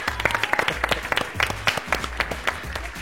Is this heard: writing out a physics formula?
no